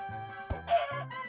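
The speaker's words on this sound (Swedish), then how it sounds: "Oh, där är kycklingar." Chickens in the video game Minecraft, a brief close cluck-and-squawk call heard alone over a soft steady tone.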